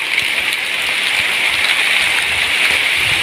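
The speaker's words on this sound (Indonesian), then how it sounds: "Wah, ini hujan teman-teman ya." Steady rain falls on a porang (konjac) field, a dense, even hiss of drops hitting leaves and ground that stays constant and fairly loud with no voices.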